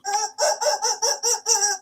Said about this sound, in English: One of her favorite toys is that rooster that makes noise like that.